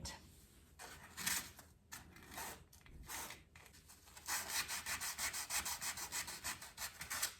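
Hand sanding of gray filler patches in living room wall holes before painting: repeated rubbing strokes, irregular at first, then a steady quick back-and-forth run of strokes, close and fairly soft, with no talk.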